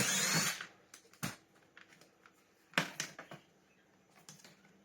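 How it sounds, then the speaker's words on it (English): Screws being worked out of a Henry HVR160 vacuum cleaner, giving short scattered clicks and scrapes of tool on plastic, with a brief louder burst at the start and a few sharp knocks, close and moderately quiet. "We may as well take these three screws out now."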